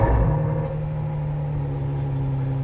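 A Ferrari engine, a car valued at 400,000 euros, catches with a loud burst and then settles into a deep, steady idle rumble close by, with no talk over it.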